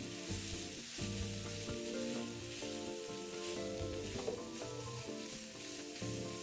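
Ingredients for a char siu dish stir-fried in a pan, a steady close hiss of sizzling oil with scraping and tossing as the food is stirred, no voices.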